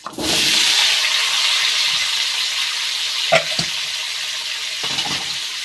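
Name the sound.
pumpkin and potato frying in oil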